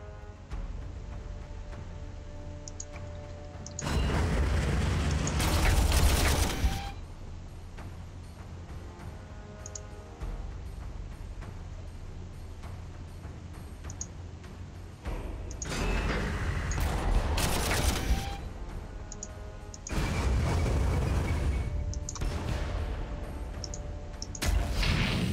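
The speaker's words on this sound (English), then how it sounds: "Infantry with lasguns shooting up walls apparently is very effective against Earthshakers" Lasgun volleys and explosions from the strategy game Warhammer 40K Armageddon, where infantry fire on Earthshaker artillery; loud bursts of fire and blasts erupt in several separate clusters over a low, steady background hum.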